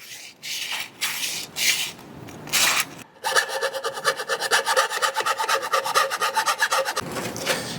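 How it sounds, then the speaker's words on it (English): Rough rasping strokes of sandpaper scraping a valve tube segment's edge after filing, several separate passes, then a run of quick rhythmic rubbing, close up and alone. "You can now take sandpaper and go around that same edge to clean up where that file just went across."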